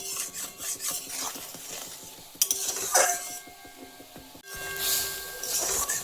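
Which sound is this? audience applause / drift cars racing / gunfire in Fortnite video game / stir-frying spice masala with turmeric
stir-frying spice masala with turmeric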